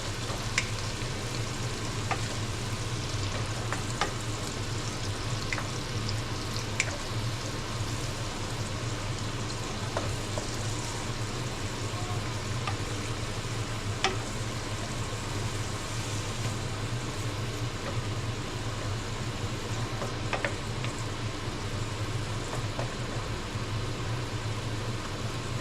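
Razor clams fry in a pan, giving a steady, continuous sizzle at moderate level with occasional small pops and crackles, no talking.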